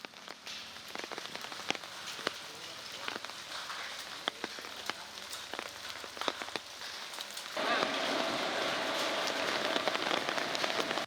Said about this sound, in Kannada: ಪಶ್ಚಿಮ ಘಟ್ಟ ಪ್ರದೇಶದಲ್ಲಿ ನಿರಂತರವಾಗಿ ಮಳೆ ಆಗ್ತಿದೆ